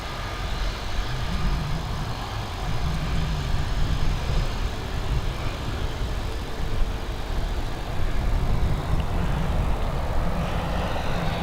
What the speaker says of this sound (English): that A220 up and away, heading over to Oslo